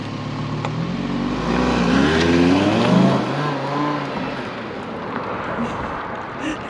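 Sports car exhausts, a cammed Shelby GT500 and a stock Audi R8 V10, rev loudly up close, rising and falling in pitch before fading to a lower idle.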